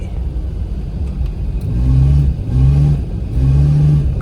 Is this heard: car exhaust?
yes